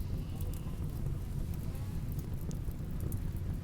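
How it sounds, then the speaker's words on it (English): Steady rain pours in a Minecraft-style survival game, a dense, even broadband hiss with scattered drop ticks, continuous and fairly close throughout, no voices. "Yep, there's the rain."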